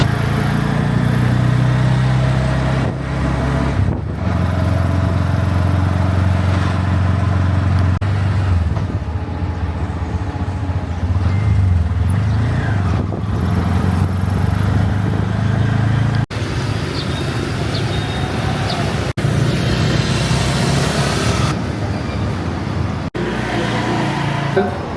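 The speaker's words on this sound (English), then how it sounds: "So the bus is here nice and early." Bus pulling up on a roadside in Kampot, Cambodia: a continuous low engine rumble with passing traffic, with people talking over it at times.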